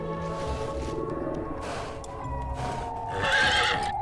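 A horse in a film scene whinnies loudly over a swelling musical score, with faint hoof clops in the mix and a high, shrill neigh rising near the end.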